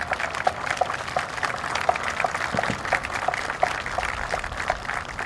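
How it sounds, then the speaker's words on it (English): A round of applause at a Navy chief pinning ceremony aboard USS Essex, a crowd clapping steadily with dense, hissing patter and a few sharper individual claps standing out, moderately distant and filling the room without talk. "I'd like to have a round of applause for Melanie"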